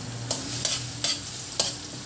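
Garlic sizzles in cooking oil in a pan, a steady close hiss broken by four evenly spaced scraping stirs.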